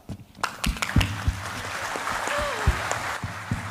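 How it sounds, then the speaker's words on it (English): A conference audience at APEC 2024 claps, scattered sharp hand claps building into a moderate round of applause. "maybe we should give some applause to our audience who are working very hard"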